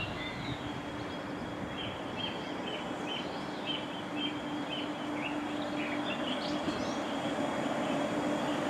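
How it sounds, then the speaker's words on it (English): A train arriving at a station rumbles steadily with a repeated high squeal or chirp from wheels on track, loud and continuous, birds faintly audible. "So our train should be arriving now to take us to Birmingham New Street"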